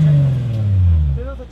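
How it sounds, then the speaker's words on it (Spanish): A Mercedes-AMG C300 six-cylinder engine revs up close with a smooth, high-pitched purr that climbs and eases back over a second and a half. "Es que el ronroneo así agudito de un 6"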